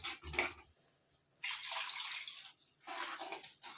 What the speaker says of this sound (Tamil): அளவு தண்ணி ஊற்றிக்கலாம்